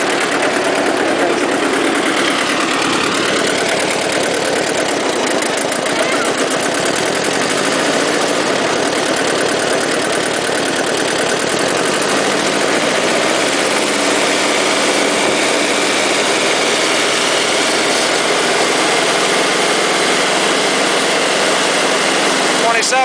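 A Kubota B2650 tractor engine, retrofitted and running an auger, holds a loud steady drone as it is revved up, the pitch climbing gradually over a long stretch.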